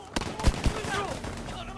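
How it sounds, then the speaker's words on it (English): Battlefield V gunfire on Iwo Jima, a few quick, fairly close shots in a short burst over low battlefield rumble. "I seem to be getting shot by an enemy"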